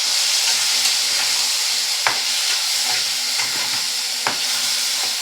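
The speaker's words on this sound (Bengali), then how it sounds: "এবার আমের সঙ্গে মশলাটাকে ভালো করে কষিয়ে নিতে হবে" Mango pieces with salt, turmeric and chilli powder fry and get stirred in a pan for a Bengali fish-with-mango dish, a steady close sizzle with a few sharp scrapes of the spoon and no talking.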